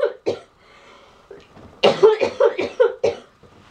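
A rough, barking fit of coughing: a few single coughs, then a quick run of harsh coughs close to the microphone, with a throat-clearing sound.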